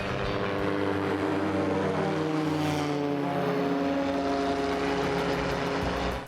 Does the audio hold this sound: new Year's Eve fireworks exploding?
no